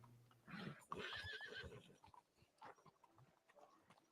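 A horse in a video game whinnies in a shaky, rising neigh, followed by snorting, panting breaths and faint hoof clatter, all fairly quiet.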